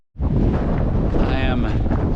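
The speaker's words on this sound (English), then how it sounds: "It's starting to get windy too" Strong wind gusts buffet the microphone on an exposed ash and rock slope near the summit of Mount St Helens, a steady loud roar filling the whole clip with no talking.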